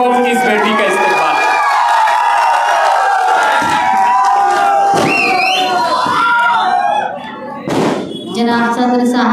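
A crowd at a Samajwadi political meeting claps and cheers loudly, with shouting voices rising over dense applause and a brief dip near the end before the noise swells again.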